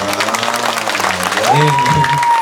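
Applause from an audience at a Balinese temple performance of a Calonarang drama, steady clapping under ongoing crowd noise and a sustained tonal sound toward the end.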